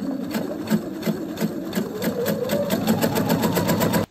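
A sewing machine runs steadily, stitching a second gathering thread about half a centimetre from the first along a fabric ruffle, its rapid needle pulses close and continuous for about four seconds before stopping abruptly.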